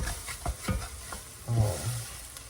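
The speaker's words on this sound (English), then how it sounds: "Make sure you scrape the bottom for any excess roux" A spoon scrapes and stirs roux along the bottom of a pot of shrimp and potato stew, a few close knocking strokes over a soft bubbling sizzle.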